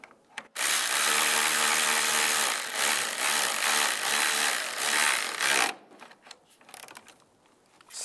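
A power tool, likely a ratchet or impact driver, tightens an engine mount bolt on a 1999-2005 Volkswagen Jetta, a loud, close whirring burst lasting about five seconds, then fading into quieter clicks and handling noises.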